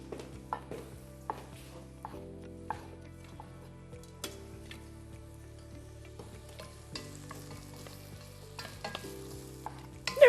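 Onion and garlic frying in olive oil in a pan, a soft sizzle under intermittent clinks and scrapes of stirring, with a few sharper knocks and a louder clatter at the end.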